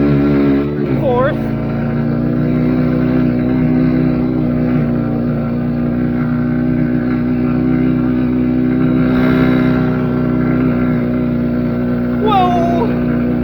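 Kawasaki KLX110 minibike with a Timbersled Ripper snow kit runs flat out on snow, its small engine droning loud and steady with brief revs rising through gear changes.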